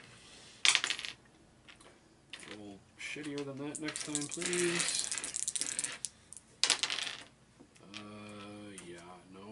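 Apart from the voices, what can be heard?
rolling dice in a Shadows of Brimstone board game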